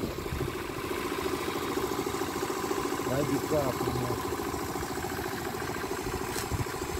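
An Aprilia Scarabeo 100cc scooter engine idles steadily close by, a continuous mid-pitched putter with a faint vibration, while people talk over it.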